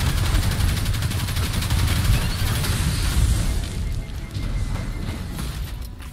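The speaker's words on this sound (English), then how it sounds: "Another scorch cannon." Scorch cannon fire in the Destiny 2 video game, a dense, loud stretch of booming blasts and rapid gunfire that eases slightly toward the end.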